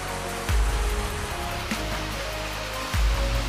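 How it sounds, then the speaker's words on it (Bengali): Changey waterfall in Pelling drops from a great height, giving a steady wash of rushing water, with louder low bursts from handling noise near the start and end and no talk. "কিন্তু ঝর্ণাটা অনেক হাইট থেকে পড়ে।"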